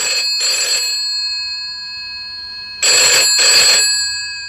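Telephone at a village post office ringing in two loud double-burst rings separated by a pause, each burst a bright electronic trill, with no voices.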